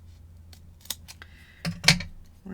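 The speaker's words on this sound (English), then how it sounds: "We're going to cut that little tabby dot in half." Scissors cut a small paper tabby dot in half for a mixed media page, a couple of crisp close snips with light rustling handling.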